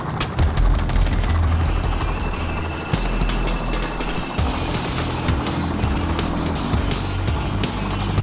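Helicopter in the video game Payday The Heist, a loud continuous rotor and engine drone that fills the clip, with sharp bursts like gunfire cutting in now and then.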